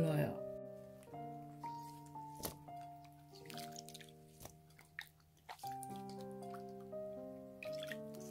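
Soaking water drained from rice through a sieve, faint drips and trickles under someone speaking and soft background music.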